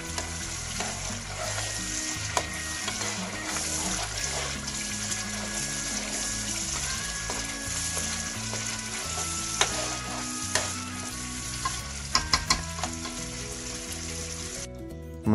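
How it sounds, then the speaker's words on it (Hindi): Spice paste and masala for Lahori-style chikar cholay fry over a medium flame, giving a continuous close sizzle with scattered stirring clinks and scrapes, set against soft background music. "पेस्ट और मसाले को अच्छी तरह से भूनना है"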